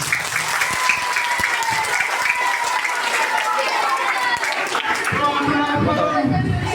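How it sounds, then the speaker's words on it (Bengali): A crowd at a primary school event applauds for a madam with sustained clapping from many hands, fairly loud and steady, with voices and chatter mixed in toward the end. "ম্যাডামের জন্য ধরে একটা হাততালি।"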